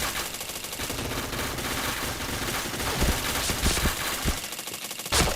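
Rapid gunfire from a shooter video game as headshots land, dense continuous bursts of shots with heavier thuds mixed in, loud and unbroken throughout.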